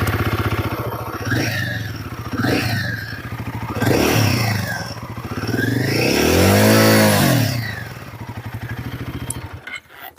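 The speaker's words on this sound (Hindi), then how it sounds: "काफ़ी ग्रंटी काइंड ऑफ आवाज़ निकलता है इंजन से, इसका एग्जॉस्ट से" Royal Enfield Guerrilla 450 motorcycle engine and exhaust running close by, a grunty, uneven low thump with several blips and swells of revving before it settles and cuts out near the end.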